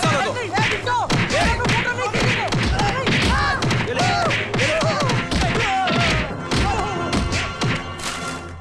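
Punches and blows land in a Hindi movie fight scene, dull thuds scattered among loud shouting voices and dense background sound throughout.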